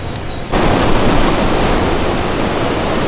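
Sea waves at a beach in Hua Hin, a loud, continuous broadband wash of surf that swells up after a short softer opening, with some wind buffeting the microphone.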